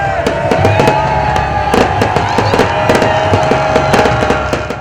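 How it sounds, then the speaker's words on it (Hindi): New Year fireworks display over Liberty Chowk in Lahore, a loud, dense barrage of crackling bursts and sharp bangs popping in rapid irregular succession over a continuous roar, with faint crowd noise beneath. "लिबर्टी चौक में भी नए साल को शानदार आतिशबाजी के मुजाहरे से खुशामदीद कहा गया।"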